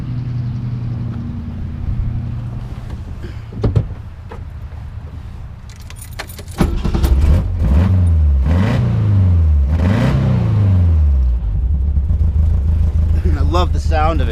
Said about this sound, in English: Why don't we get a little exhaust note?